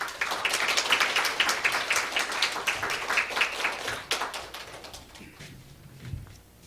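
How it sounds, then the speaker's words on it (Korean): Congregation clapping at a church elder-ordination thanksgiving service, a dense patter of many hands for about four seconds that thins and fades, leaving a quieter hall with a faint low thump near the end. "박수로 환영하겠습니다."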